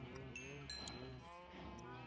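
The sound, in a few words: cows mooing in Minecraft video game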